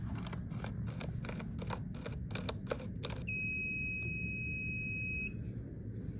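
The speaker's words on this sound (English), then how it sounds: "our buzzer back here that activates when it has finished also" A Formula 369 dispenser's buzzer sounding when it finishes: a steady high electronic tone held for about two seconds, preceded by a quick series of sharp mechanical clicks, no voices.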